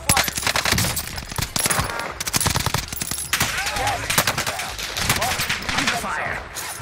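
Hostile automatic gunfire rattles nonstop in the video game Rebirth, dense rapid bursts filling the whole stretch, loud and close, with chatter mixed underneath.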